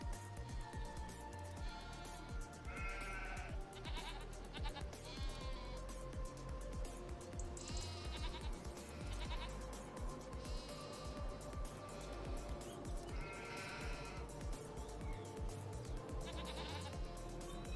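Goats bleating in the farming game Farming Simulator 25, repeated overlapping bleats rising over a steady bed of game music and ambience, fairly loud throughout.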